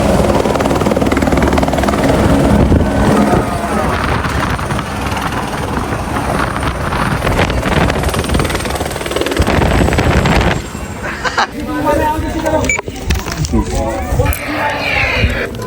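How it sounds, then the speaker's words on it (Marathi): Helicopters at the Vaishno Devi helipad give off a loud, continuous rotor roar that fills the whole stretch, with voices speaking beneath it. "चला बघा इथं किती हेलिकॉप्टर आहेत."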